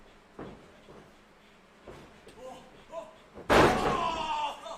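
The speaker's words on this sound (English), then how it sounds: "Big power slam, slams him straight down." A wrestler's power slam crashing onto the ring mat at a live wrestling event, a sudden loud impact late in the moment after quieter crowd and commentary sounds, with a brief lingering rumble.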